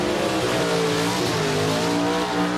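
A Pontiac Formula Firebird drag racing car driven at the 1994 NHRA Northwest Nationals roars loud and continuous, its engine note sliding in pitch with a steady harsh wash throughout.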